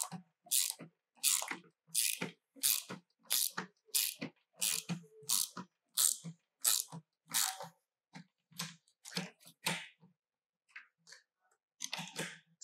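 A wrench or ratchet tightens the main wheels of a Gratz reformer, giving a crisp close-up series of evenly spaced ratcheting clicks, about a dozen strokes, then a few quieter, irregular clicks.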